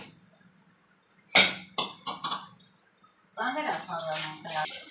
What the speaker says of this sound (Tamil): அதில் வந்து கொஞ்சமாக தண்ணி ஆட் பண்ணிக்கிறோம்